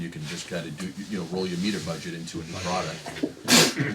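A sneeze bursts out sharply near the end of a meeting room recording, loud and close, following steady talk from a man discussing budgets.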